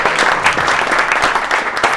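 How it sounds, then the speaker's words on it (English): An audience at a hackathon applauds a team from Samsung, dense continuous clapping from many hands filling the room at close range for a couple of seconds. "Please applause to our guys from Samsung."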